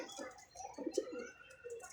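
Pigeons coo close by in a short run of soft, throaty calls that swell and fade, followed by a quieter coo near the end.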